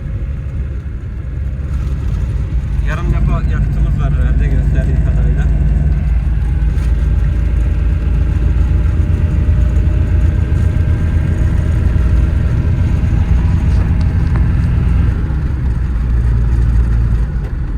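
A Tofaş car fitted with a diesel Audi engine roars loudly in third gear at around 30, a steady deep rumbling drone that strains throughout, while someone talks over it inside the cabin.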